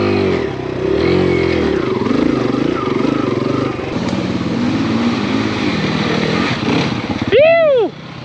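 A Kawasaki KLX 140RF four-stroke dirt bike climbs a muddy hill, its engine droning hard and rising and falling in pitch at close range, with a brief excited whoop from the rider near the end.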